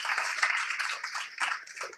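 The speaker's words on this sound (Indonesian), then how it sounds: "Berikan tepuk tangan untuk Tuhan." Church congregation clapping in praise during a worship service, a dense burst of many hands applauding steadily throughout, fairly loud and close with no speech over it.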